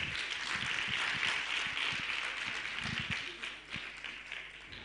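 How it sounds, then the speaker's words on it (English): Audience members at a schools quiz event give themselves a round of applause, a moderate, crowded patter of clapping that swells early and then thins and dips toward the end. "So give yourselves as well a round of applause"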